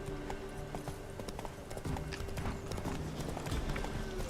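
Roach, a horse in The Witcher 3, gallops with rapid, rhythmic hoofbeats clip-clopping close by over a low background of game sound, with no one talking.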